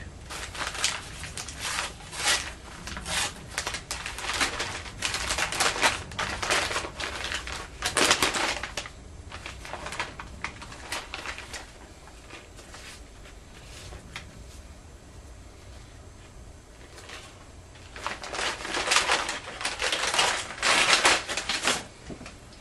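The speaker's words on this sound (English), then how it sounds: "the first step will be to insert it into a plastic bag" A pork loin is pushed into a plastic bag for marinating, giving bursts of crinkling, rustling plastic close by, loud in clusters with a quieter stretch in the middle.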